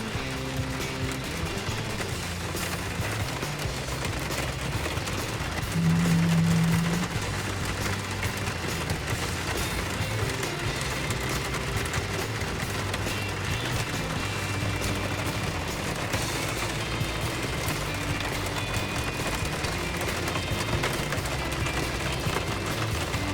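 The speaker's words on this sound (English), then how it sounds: "it started torrentially downpouring" Torrential downpour at a lakeside spot, a steady dense hiss of heavy rain on surfaces filling the whole scene without letup, with a brief low hum partway through.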